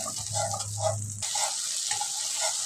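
Onions fry in a pan with a steady sizzle while being mixed, scraping stir sounds and a low hum at the start, no talking.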